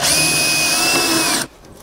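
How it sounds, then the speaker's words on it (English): A power drill with a 3/16 bit spins into sheet metal, giving a steady high whine for about a second and a half before it stops abruptly. "So now I wanna drill a hole into the sheet metal so I can get ready to install this."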